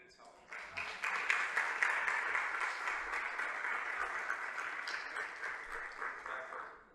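Conference audience applauding at a children's neuromotor development talk, a dense sustained wash of many hands clapping that swells quickly and holds steady through to the end, with some voices mixed in.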